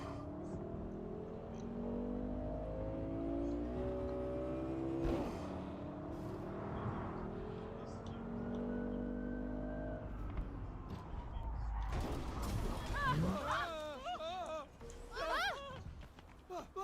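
A car engine revs and accelerates in Cyberpunk 2077, its pitch climbing and falling through gear changes under steady talk, with clattering effects later on.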